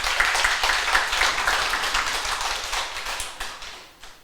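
A church congregation in Busan applauds during an anniversary thanksgiving service, a sustained patter of many hands clapping close by that thins out toward the end.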